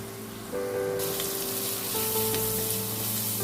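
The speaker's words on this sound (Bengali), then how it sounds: "জাস্ট একটু করে ভাজা ভাজা হবে, বেশি কিন্তু ভাজবো না।" Oyster mushrooms hit a pan and fry over medium heat, breaking into a sudden, loud, steady sizzle that continues close by.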